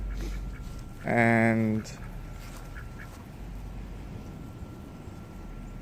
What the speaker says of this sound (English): these are khaki Campbells, by the way. They're a mix between mallards and Indian runner ducks.